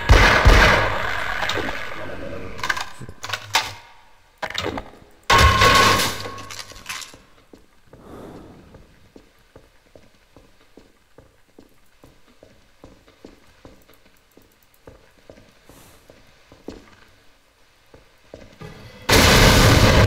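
Pistol shots in Half-Life: Source, loud bursts of gunfire with breaking glass, then a long run of rapid clicking impacts before the firing resumes loudly.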